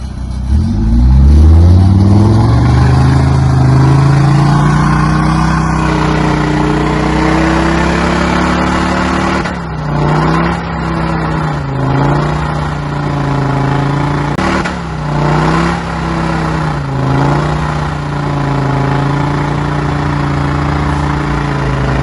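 A Land Rover TD5 diesel engine revs hard off-road, a loud close roar that climbs, holds, then surges and dips repeatedly as the throttle is worked, with no talk.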